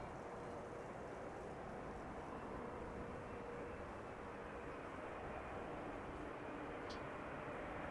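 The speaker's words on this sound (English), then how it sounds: "Lufthansa flight 2302 arriving from Munich, CRJ 900." A Lufthansa CRJ 900 jet arriving from Munich rumbles at Amsterdam Schiphol airport as a steady, broad, low roar that stays even and fairly faint throughout, with no talk.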